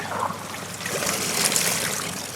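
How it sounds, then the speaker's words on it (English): Water rushes and trickles steadily back into a swimming pool skimmer box after the basket is pulled out, a continuous close splashing flow with no talking. "our water is going to flush back in, and that water level is going to come back up."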